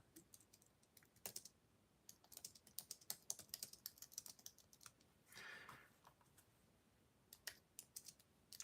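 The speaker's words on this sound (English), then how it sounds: "Sorry, just doing a little typing over here." Quiet typing on a computer keyboard, irregular bursts of light key clicks and taps over several seconds, faint and close, with a brief soft rustle midway.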